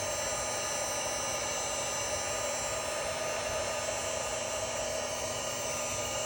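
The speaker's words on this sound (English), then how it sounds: "Uses this Ryobi heat pen. I'm going to turn it on high." A Ryobi 18V cordless heat pen runs on its high setting as it warms an interior plastic car panel, giving off a constant, even fan-driven whoosh with a faint steady hum and no talking.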